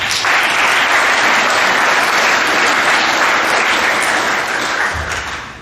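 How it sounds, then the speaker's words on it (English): Loud, dense applause fills a high school spring sports awards assembly for honored athletes, sustained evenly for several seconds before tapering off at the end. "please give them a round of applause"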